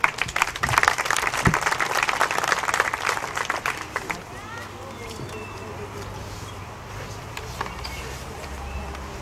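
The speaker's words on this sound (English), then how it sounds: "Let's give these individuals a nice round of applause." An audience at a cattle show claps for the junior high showmanship winners, a lively burst of applause for about four seconds that fades into crowd murmur and light background talk.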